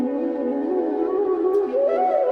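A bansuri, the reedless Indian bamboo flute, plays a short breathy melodic phrase with gliding pitch bends, clear and close with no other sounds.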